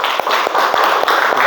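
A school class claps its hands together during a relay-running lesson. The applause is loud, close and continuous, with distinct hand claps spaced through the texture and no talking.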